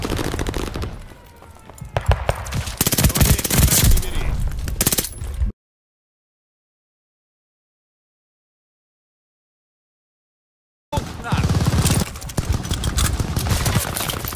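Rapid automatic fire from a PPSh submachine gun in Call of Duty: Vanguard on the Shipment map comes in two loud, dense bursts separated by a long stretch of silence.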